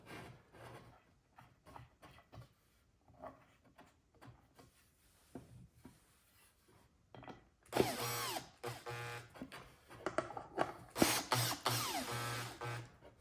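Screws driven into the cedar boards of an Adirondack chair kit: quiet clicks and handling at first, then several loud, close whirring bursts of driving in the second half.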